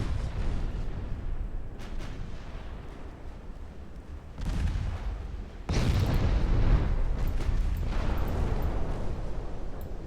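Warship naval guns fire in the Ultimate Admiral Dreadnoughts game as a series of heavy booms, a few separate blasts and then a louder sustained rumble of salvos and explosions, with no voices.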